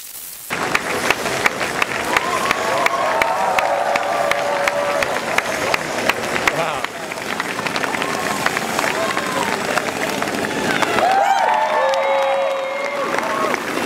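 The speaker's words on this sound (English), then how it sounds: "Okay, guys, get ready to clap," Audience applause and cheering from a crowd at a live magic show, sustained and fairly loud across the whole stretch, with crowd murmur mixed in.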